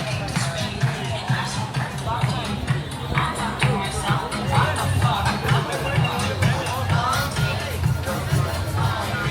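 Busy crowd chatter outside beachfront bars in Benidorm, a steady murmur of many voices mixed with street noise and a low background thump, continuous and fairly loud.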